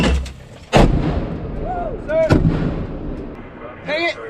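Live artillery fire during the Warrior Shield US–South Korea joint field exercise: two sharp, loud blasts roughly a second and a half apart, each followed by rumbling echo, with people shouting in between.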